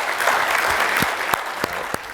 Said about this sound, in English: if we can give them a round of applause here